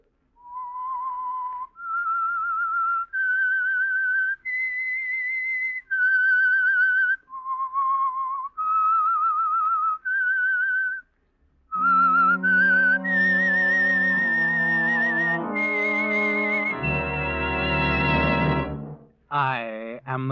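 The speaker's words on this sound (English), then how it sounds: "That whistle is your signal for the Signal Oil Program" Theme whistle of the 1947 radio drama The Whistler, a lone eerie melodic whistle of sustained rising and falling notes, then joined by a swelling orchestral chord and brief closing flourish.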